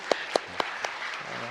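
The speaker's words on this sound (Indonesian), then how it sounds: "Tepuk tangan dulu untuk Pak Gubernur." An audience applauds the governor at a public event: a few sharp, spaced claps ring out, then fade into a softer patter.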